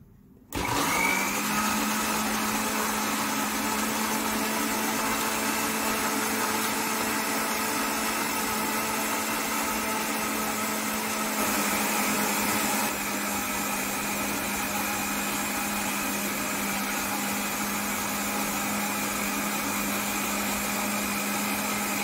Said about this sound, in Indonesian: Nah, sekarang kita blender.